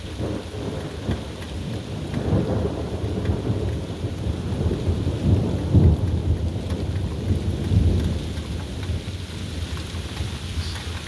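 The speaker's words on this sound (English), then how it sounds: "you can hear the rain" Steady rain falls through a thunderstorm, with low rolling thunder swelling and fading under the constant patter, heard alone without voices.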